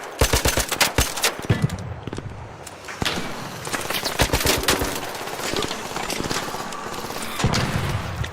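Rapid automatic gunfire in the Marvel Rivals video game, dense bursts of shots crackling close and loud, with sustained volleys and scattered single cracks through the stretch.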